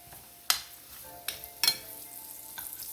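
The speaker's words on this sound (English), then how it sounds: "I'm going to add just a little bit more of coconut oil in the pan" Plantain frying in coconut oil in a pan gives a low, steady sizzle, broken by a few sharp clinks and scrapes of a utensil against the pan.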